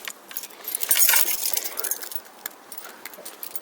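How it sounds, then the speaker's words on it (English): A bunch of keys jangling and clinking up close, with a busy burst of metallic rattling near the middle that then settles into lighter, scattered jingles. "Where are my keys? Oh, they're there. Found them. Keys."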